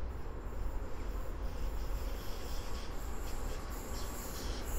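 A train passing Warszawa Powiśle station in autumn gives a steady, dense rumble of wheels and carriages that fills the whole stretch. A faint high whine or squeal sits above it, and nobody speaks.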